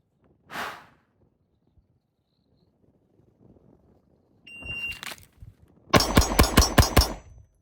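A SIG P365XF compact pistol fires a fast string of about six close, loud shots after an earlier single shot and a shot timer beep, heard on an outdoor range.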